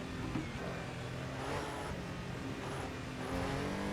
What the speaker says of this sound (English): Engine braking doing a bit too much for me there.